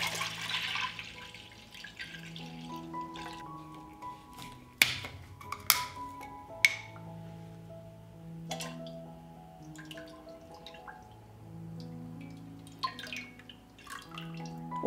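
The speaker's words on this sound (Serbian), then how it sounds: "Mleko sipam u 1 dublju šerpu." Fresh farm milk is poured into a deep cooking pot, a faint liquid trickle with soft drips and a few sharp clinks against the metal, quiet and without talk.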